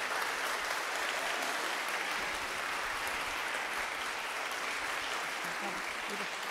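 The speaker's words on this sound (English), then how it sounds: "We're going to give a big round of applause to our panel" A dense, steady wash of audience applause for a plenary panel at a digital inclusion conference, continuous and even throughout with no pauses.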